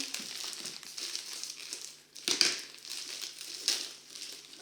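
Wrapped square chocolate biscuits are opened, their crinkly plastic packaging crackling and rustling close up, with a couple of sharper tearing crinkles.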